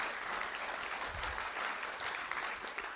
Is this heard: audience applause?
yes